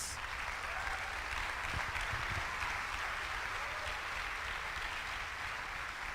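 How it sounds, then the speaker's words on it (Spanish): A congregation at a church service applauds, a dense, continuous roar of clapping that stays level and loud throughout with no pause. "¿Podrás darle un aplauso al Rey de Reyes?"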